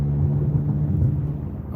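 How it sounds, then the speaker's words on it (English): Inside a moving car, the exhaust drones as a steady low rumble with a faint hum, constant and fairly loud, while driving home from work; no one speaks over it. "can you guys hear the drone of the exhaust in the background?"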